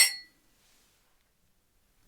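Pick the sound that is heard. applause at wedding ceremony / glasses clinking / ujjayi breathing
glasses clinking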